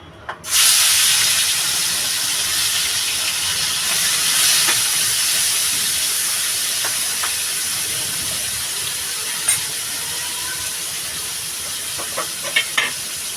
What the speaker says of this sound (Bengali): আমার তেলটা গরম হয়ে গেছে আমি চিংড়ি মাছটা দিয়ে দেবো